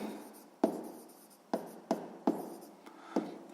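A pen writes on paper during a sixth-grade maths exercise, giving about six distinct close taps and strokes in an uneven rhythm in a quiet room, with no voices.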